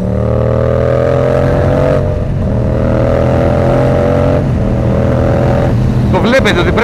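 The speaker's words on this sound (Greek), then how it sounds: "Έχει full χαρακτηριστικό θόρυβο, δηλαδή καταλαβαίνω ότι έρχεται MT από 2 χιλιόμετρα πριν." A Yamaha MT motorcycle engine revs hard while riding, with a loud, steady drone that climbs in pitch through repeated gear shifts and snaps back between them, close and continuous with wind rush.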